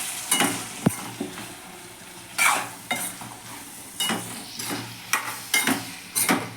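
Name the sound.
boiled beans and potatoes frying with tomato and onion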